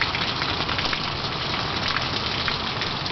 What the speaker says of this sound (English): it's like raining like crazy right now